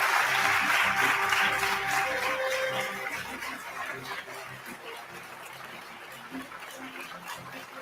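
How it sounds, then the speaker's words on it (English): Round of applause at a Kenyan presidential results tallying centre, a crowd clapping loudly at first, then fading into a softer, steadier patter of hands. "Let's give him a round of applause."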